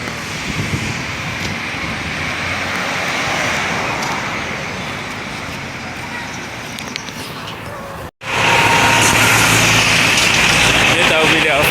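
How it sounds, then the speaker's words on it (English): A Kenworth W900 truck with a Cat C13 engine and a poor muffler rumbles loudly and roughly, with a harsh, raspy exhaust roar. After a brief cut it returns even louder, and speech can be heard over it. "This a video of a poor muffler."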